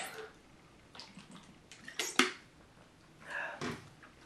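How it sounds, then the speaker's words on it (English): Water trickles and splashes into a drinking glass, quiet and close, in a few short bursts with soft clinks of the glass in between. "I'm going to have some water real quick"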